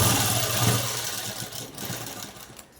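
A sewing machine stitches a blouse made of net cloth, giving a steady, close, whirring mechanical hum that runs the whole time and fades slightly at the end.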